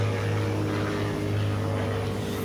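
Steady, loud drone of a propeller airplane passing overhead, a buzzing engine hum with layered tones and no voices.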